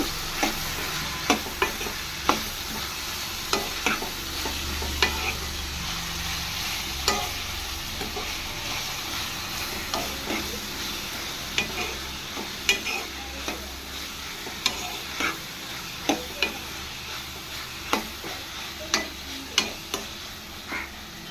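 Food seasoned with turmeric and salt sizzles steadily in a pan while a spoon stirs it, its sharp scrapes and taps recurring at irregular intervals over the constant frying hiss.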